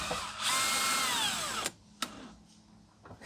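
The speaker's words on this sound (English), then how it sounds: "So I'm just going to get them not even snug with the screw gun." A screw gun drives screws into a Jeep ZJ/XJ liftgate latch, whining up and then winding down in pitch for about a second, followed by a few sharp clicks and short bursts, close and alone.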